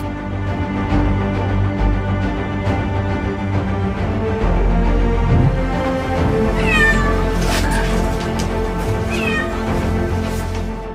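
A cat stuck in a car wheel meows loudly and repeatedly. The distressed cries are close and prominent over a steady low background hum.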